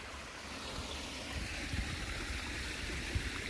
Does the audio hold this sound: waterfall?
yes